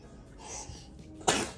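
A single sharp sneeze bursts out near the end, loud and close, after a brief quieter intake of breath, in a quiet indoor room during a hair and makeup routine.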